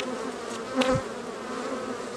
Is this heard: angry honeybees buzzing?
yes